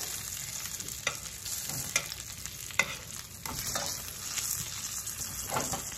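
Venison hamburger patties fry in hot oil, giving a steady close sizzle with scattered crackles and pops from spattering, and no talking.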